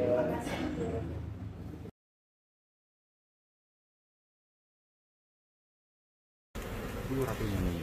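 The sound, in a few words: bees buzzing around a hive with a queen bee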